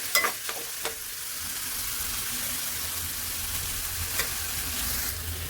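Ingredients for fried rice sizzle steadily in a hot pan, with a few sharp scrapes and stirs of a spatula near the start and again later, a close, continuous frying hiss throughout.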